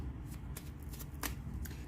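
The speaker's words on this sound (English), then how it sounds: "No more noisy shuffle." Several quick riffling bursts of tarot cards being shuffled, crisp and close, with short pauses between them over a low background hum.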